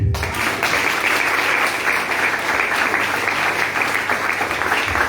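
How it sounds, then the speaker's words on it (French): A church congregation applauds steadily at a prophetic service with Prophet Alex Allard, dense sustained clapping and cheering filling the space throughout, loud and continuous with no pauses. "Est-ce que tu peux acclamer?"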